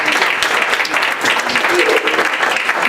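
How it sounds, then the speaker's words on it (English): At an international school event, an audience breaks into strong, loud applause that fills the room, the crowd clapping densely and evenly without a pause for the full few seconds. "So can we give a round of applause?"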